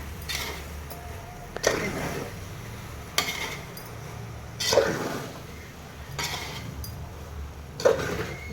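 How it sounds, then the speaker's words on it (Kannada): Puffed rice tossed with onions in a pan, stirred in slow repeated scraping sweeps with soft rustling and periodic clinks of the spoon against the pan edge, steady and close with no speech. "ಮಂಡಕ್ಕಿ ಎಲ್ಲ ಹಾಕಿದ್ಮೇಲೆ ಚೆನ್ನಾಗಿ ತಿರುಗಿಸ್ಕೋಬೇಕು"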